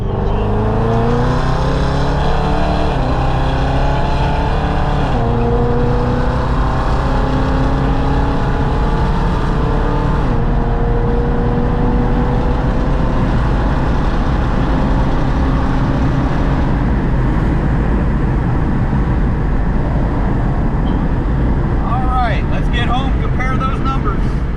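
ProCharged supercharged Dodge Challenger with a 5.7 engine accelerating hard through gears on a performance run, a loud continuous engine roar with rising pitch sweeps and shifts, heard from inside the car.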